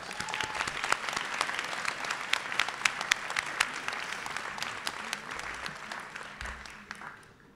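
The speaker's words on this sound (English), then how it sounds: "Could we ask them all stand so we could give them a round of applause?" Applause at an upper school senior class night, a warm sustained round of many hands from a crowd, fairly distant and fading gradually toward the end.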